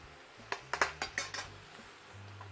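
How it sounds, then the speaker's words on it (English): Kitchen pan noise while ground beef browns and onions sauté for homemade hamburger helper: a quick series of metallic clinks and scrapes of a utensil against the pan, close and distinct, without speech. "So we're browning off some ground beef, and now we're sauteing off some onions, about a half a cup or so."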